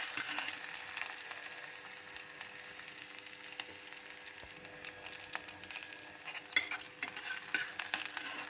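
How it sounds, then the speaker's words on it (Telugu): Onions and green chillies fry in a pan, with a steady broadband sizzle and light stirring scrapes running throughout and no speech. "ఉల్లిపాయలు, పచ్చిమిరపకాయలు వేసి వేయించుకున్నామండి"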